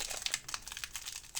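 Plastic wrapper of an Astres Radieux trading card booster pack being worked open by hand, a brief flurry of close, soft crinkles and small ripping ticks at low volume.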